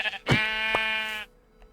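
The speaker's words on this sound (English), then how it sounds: "I'm gonna dye this gray sheep, make him a yellow sheep" Sheep bleating in Minecraft: one long, loud, wavering bleat right after a brief soft thump, then quiet.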